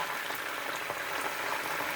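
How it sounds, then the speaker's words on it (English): Tomato passata bubbling and simmering in a frying pan, a steady soft crackle with small pops, close and continuous. "You can see it's starting to simmer."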